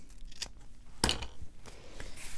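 Scissors cutting a piece of turquoise material: one crisp, close snip stands out in the middle, with a few quieter clicks and rustles of handling around it.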